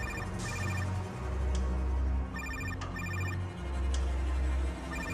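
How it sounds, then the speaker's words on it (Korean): A mobile phone rings in bursts of repeated electronic tones, fairly loud and clear, over a low droning background. "아직 폰은 울리고 있다."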